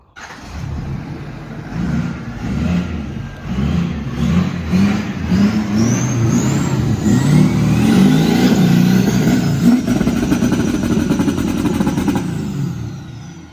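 A Ford 6.4 Powerstroke diesel truck fitted with a SPELAB intercooler drives and accelerates, its engine rumble building steadily louder with rising turbo whistle and whine, heard close and without talk.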